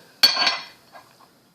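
A sudden clattering thump of vegetables dropped into a metal pan that is not yet hot, a brief scrape and rattle that quickly fades, followed by a couple of faint knocks.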